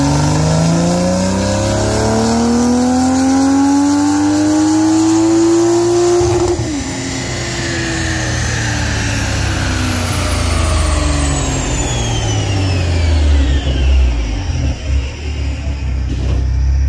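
A Toyota Corolla XRS with an aftermarket exhaust revs hard on a dyno at a Saturday meet, the engine note climbing steadily through the gears, dropping at a shift, then sweeping up again loud and close before easing off.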